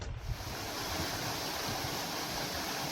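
Yongso waterfall in Heullimgol, Osaek, in winter, a steady broadband rush of falling water with constant roar and no pauses, heard alone.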